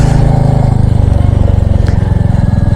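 Motorcycle ridden through cloud and mist on a mountain trip from Siliguri to Lava and Rishop, its engine running close and loud with a steady, even drone throughout.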